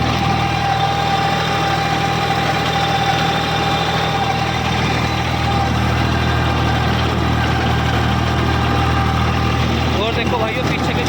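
A 50 HP tractor with a dual clutch runs steadily at idle, its engine giving a continuous low rumble with a faint mechanical whir layered over it, close and unbroken throughout.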